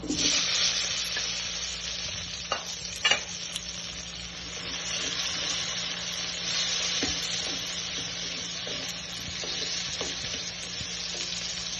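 Tomatoes sautéing in a pan for ginisang talbos ng kamote, with a steady close sizzle of frying and a few clacks of a utensil stirring against the pan, continuous with no talking.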